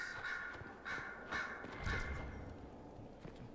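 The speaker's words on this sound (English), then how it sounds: "Birds." Crows caw repeatedly in Dragon Age: Inquisition, several harsh calls spaced about half a second apart over a steady ambient game background, moderately loud and alone without talk.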